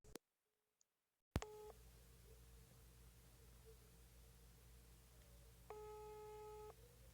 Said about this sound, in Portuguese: Tá chamando.